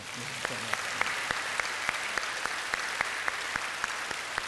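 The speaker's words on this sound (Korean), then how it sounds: "한번 이 젊은이들을 위해서 박수를 보내주시지요" A church congregation at a summer retreat service applauds a youth choir, a faint, distant patter with a steady beat of sharper claps running through it; a voice is briefly heard at the start.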